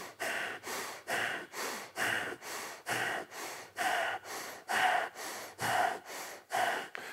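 Powerful breathing during a Kundalini yoga exercise, done eyes closed from the diaphragm: about fourteen forceful, rhythmic breaths in quick, regular succession, each a loud, close, breathy rush separated by short pauses.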